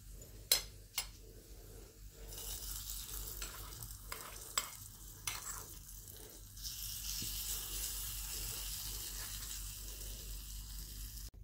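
Hot ghee tempering with kasuri methi is poured over yogurt potatoes (dahi aloo), giving a soft close sizzle and hiss punctuated by a few sharp spoon clicks and taps, swelling into a fuller crackle in the final seconds.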